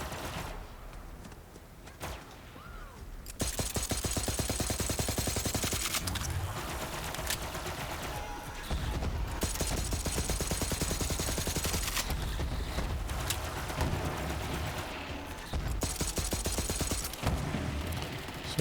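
Rapid pistol gunfire in Borderlands 3, loud repeated shot bursts in long rattling strings separated by short pauses, with game effects and impacts mixed in.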